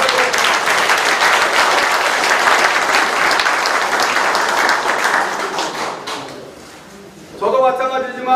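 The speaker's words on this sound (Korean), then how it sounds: "여러분 이번에는 창녕성 씨의 피가 흐르고 있는 저 엄태준 후보를 위해서 박수 한번 보내주시면 감사합니다" Audience applause at a Gyeonggi provincial council candidate's campaign office opening in Icheon. Loud, sustained clapping from a crowd fades after about six seconds, and then a burst of other noise follows.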